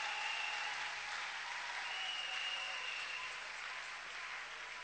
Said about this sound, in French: Est-ce qu'on peut acclamer le roi des rois?